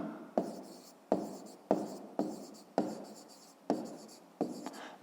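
Pencil writing on paper during a grade 5 maths exercise, short scratchy strokes repeating about every half second with sharp starts, close and fairly quiet, no talking.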